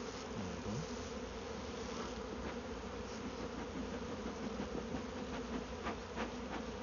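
A honeybee swarm being moved into a new hive fills the air with a dense, continuous buzzing drone, with individual bees passing close and rising and falling in pitch throughout.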